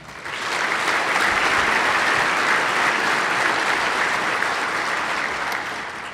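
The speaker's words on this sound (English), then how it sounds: "How about a round of applause for them?" Audience applause at a Medal of Valor ceremony, swelling quickly into a loud, steady roar of clapping from a large crowd that holds for several seconds before easing off.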